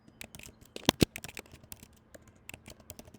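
Rapid clicks of a computer keyboard being typed on, a burst of irregular keystrokes with a couple of louder, heavier taps near the middle, close and clear with no voices.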